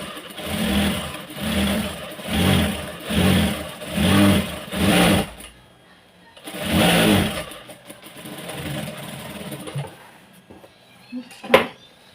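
A sewing machine stitches a half-inch attachment onto a saree to lengthen it, running in five short, even bursts, then one longer run after a pause, with quieter handling and a sharp click near the end.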